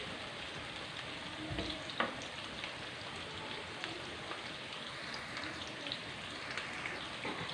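Onions frying in oil in a pan until light brown, a steady soft sizzle with faint crackles and a few small spits, close and even throughout, with no talking.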